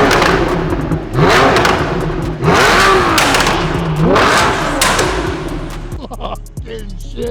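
A Porsche 911 Carrera 4S engine revs loudly in several sharp, rising bursts close by, dropping back between blips, with people talking and reacting over it.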